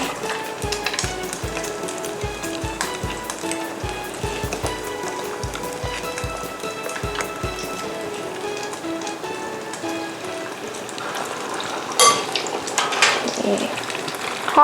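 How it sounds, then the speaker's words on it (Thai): Batter-coated Oreos deep-frying in hot oil, a steady crackling sizzle with dense bubbling throughout and a brief louder burst of spattering near the end. "ใส่ลงไปทอดเลย เลยทอด"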